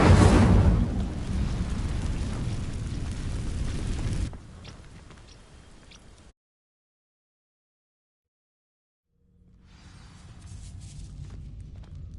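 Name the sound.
Incendio fire spell igniting dry vines, Hogwarts Legacy video game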